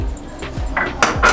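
Cashews dropped into a warm pan while making thandai, giving a few light, close clinks and rattles spaced over about a second, with no voices.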